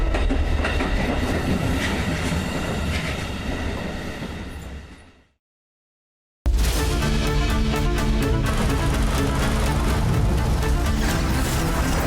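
A train at a railway station rumbles and clatters loudly with wheel clicks, fades away into silence, then another loud stretch of rolling train noise starts abruptly.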